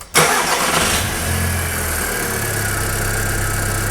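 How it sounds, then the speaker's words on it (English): A car engine cranks briefly and catches, then settles into a steady, rumbling idle, close and loud with no voices over it. "So if you can kindly start the vehicle"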